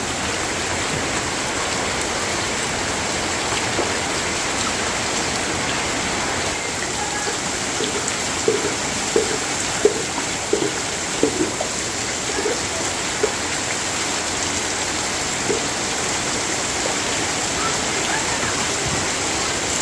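Heavy monsoon rain pours down in a steady, dense roar on a rainy afternoon, with a few brief knocks and a faint voice in the background.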